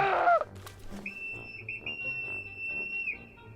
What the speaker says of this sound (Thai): ดังมาก คือเสียงนกหวีดที่แบบปี๊ดหู